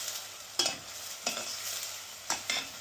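A spoon stirs onions frying in a pan for quick pasta, with a soft continuous sizzle beneath and about five sharp scraping strokes spaced irregularly, close and clear, with no talking.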